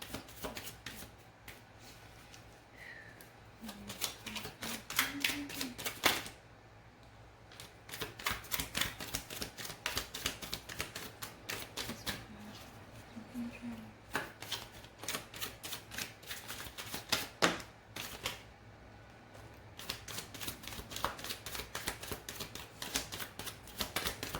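Tarot cards are shuffled and dealt into piles, giving long runs of rapid crisp riffling and flicking close up, broken by short pauses and a few soft taps.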